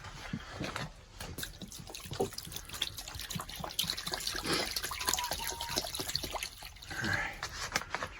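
Running water splashes and trickles steadily into a tub, a continuous watery rush with some clattering, close by.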